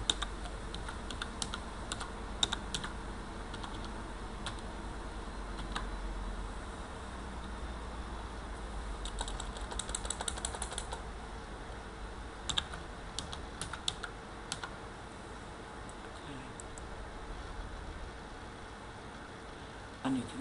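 A password is typed on a computer keyboard, giving quiet, irregular clusters of key clicks over a low background hum, with a few louder taps and no speech.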